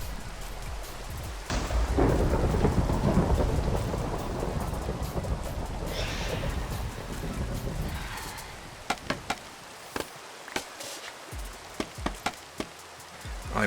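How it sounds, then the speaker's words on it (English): Thunderstorm in the Minecraft video game: a deep rolling thunder rumble over steady heavy rain, followed by a quieter stretch of rain with scattered sharp clicks and taps. "I do hear thunder."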